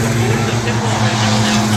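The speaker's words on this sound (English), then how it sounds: "Jeremiah Sargent battling that very loose race car right now" At Lee USA Speedway during the Oktoberfest Six Shooter stock car feature, a race car engine drones loud and steady, with the hum of other cars around it.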